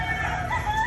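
A rooster crows loudly and close by, a sustained tonal call filling the short clip.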